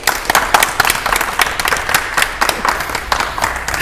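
A small audience claps for a contestant on an antiques game show; individual hand claps stand out in an uneven, moderately loud burst that continues throughout.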